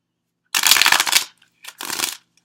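Tarot cards, somewhat sticky, being shuffled by hand in two close, brisk bursts of riffling and rustling, the first longer than the second, with a short pause between and no talking.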